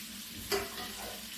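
A spoon stirs gooseberry and date pickle in a pan, making a brief soft scrape over a faint, quiet sizzle.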